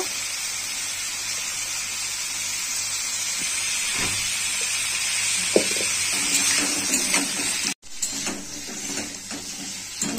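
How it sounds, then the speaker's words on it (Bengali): Pumpkin and potato pieces fry with salt and turmeric in a pan for a banana stem dish, giving a steady, close, even sizzling hiss with a few faint clinks throughout. "নুন হলুদ দিয়ে কুমড়ো আলুটাকে ভালো করে ভেজে নেব"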